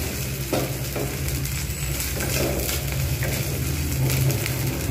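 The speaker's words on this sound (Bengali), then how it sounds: "জাস্ট আমি এর সঙ্গে একটু ভেজে নেব।" Garlic paste sizzling in oil in a pan while cooking a vegetarian kochur loti dish, a steady close crackling fry with occasional stirring scrapes and no talk.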